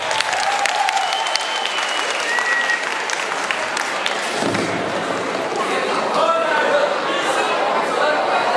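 Sustained audience applause from a crowd at a high school freshman ball, loud and even across the whole stretch, with a few thumps and background chatter.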